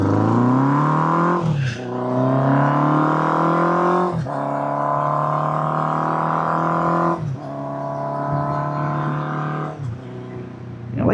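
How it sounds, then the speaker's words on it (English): A 1979 Honda CB750F motorcycle accelerates through the gears, the loud, close engine note climbing in four rising sweeps, each cut by a sharp shift before building again. "I like going through the gears on this thing."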